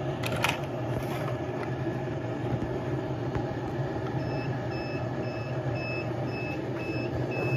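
Egg incubator alarm giving a regular series of short, high electronic beeps in its second half, over a steady low hum and background noise.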